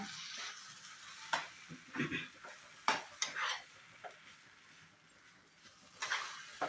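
Wheat rava upma with grated coconut being stirred in a pan, soft irregular scrapes and spoon knocks against the metal over a faint low sizzle, close and quiet with no talking.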